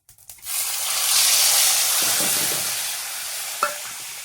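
Chopped tomatoes dropped into a hot tempering of mustard seeds and cumin burst into a loud, close sizzle that swells then slowly eases, with a few light utensil knocks.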